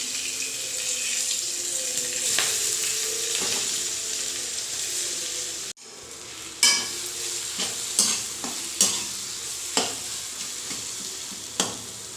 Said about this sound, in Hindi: तो चलिए अब हम इसके अंदर डाल देते हैं पिसा हुआ चना का, हरा चना, फ्रेश चना।